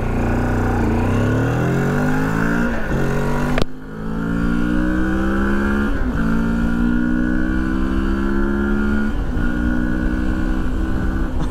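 A 2024 Moto Morini X-Cape 650 motorcycle accelerates hard, its engine note climbing loudly in pitch, dropping sharply at a gear change, then rising again in a continuous strong drone.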